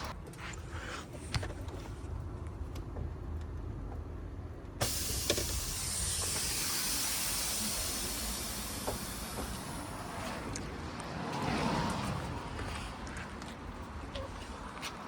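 Compressed air hisses loudly out of a drained air suspension tank on a Skoda Fabia vRS, starting abruptly as a broad rushing burst that slowly fades, with smaller hissing surges and clicks later and no voices.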